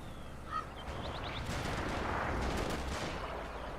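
Rifle fire in a Company of Heroes mod match: rapid, overlapping gunshots crackle in dense bursts, fairly faint, with a continuous battlefield din underneath.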